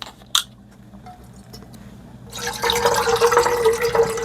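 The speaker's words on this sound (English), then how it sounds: "So I'm just going to empty my bottles of water into this pot." Bottled water is emptied into a cooking pot, and a steady splashing pour starts partway through and carries on to the end, close and fairly loud, after a few quiet clicks and handling noises.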